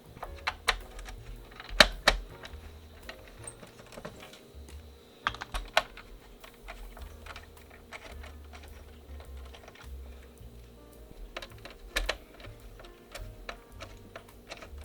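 Screws being removed from a PlayStation 1 console case, heard as scattered sharp clicks and small taps at close range, with brief clusters of clatter and no talking.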